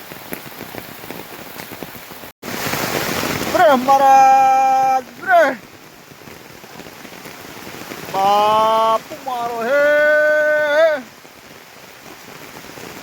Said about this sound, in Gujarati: વરસાદ તમે જોઈ શકો છો ધોધ માર પડે છે